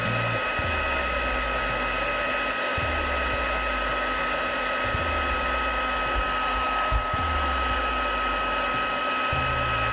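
A hair dryer blows steadily and loudly throughout, its constant whooshing whine broken by a few brief dips in the motor's hum.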